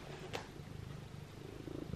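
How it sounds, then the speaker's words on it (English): A house cat purrs close by with a soft, steady low rumble that pulses evenly for a couple of seconds. A brief rustle cuts in near the start, and nobody talks. "Stop purring at me."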